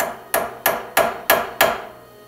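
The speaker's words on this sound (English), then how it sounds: "Okay, do a center punch, your ball peen hammer." Ball peen hammer tapping a center punch on metal during work on a 1995 Chevy Suburban: five sharp, evenly spaced metallic taps with brief ringing decay, close and clear, no talking.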